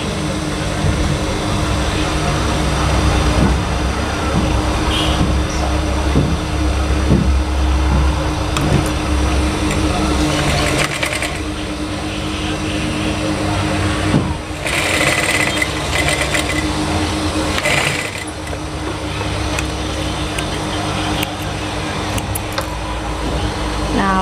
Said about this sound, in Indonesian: Selanjutnya ibu akan menjahit bagian bawah mukenanya